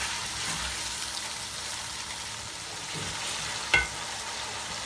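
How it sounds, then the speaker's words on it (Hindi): Tomatoes frying slowly in a pan for an aloo palak salan, giving a steady soft sizzle throughout with one brief sharp clink near the end. "दो 3 मिनट इसी तरह धीमे भूनेंगे टमाटर को"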